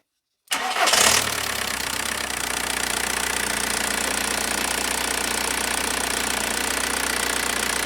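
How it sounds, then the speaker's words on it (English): A Volkswagen Jetta TDI 1.9 ALH diesel engine cranks briefly after silence, catches and starts, then settles into a loud, steady clattering idle close by, with no talking. "use our little switch here to allow the engine to start up"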